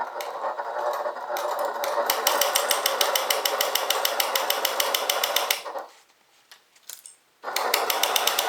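A sewing machine stitches a bag in a fast, steady mechanical rattle that runs loud and close for several seconds. It pauses briefly with a few soft clicks, then starts up again at the same pace.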